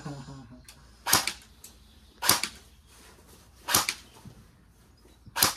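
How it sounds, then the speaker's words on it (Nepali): Gunshots fired outdoors by a first-time shooter, four sharp loud cracks spaced about a second apart, each with a short decaying tail over quiet background. "अब म बन्दुक हाल्छु"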